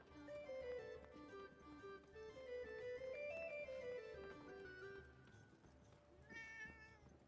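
A cat in the Forspoken video game meows faintly several times over a quiet, continuous bed of game music and ambience.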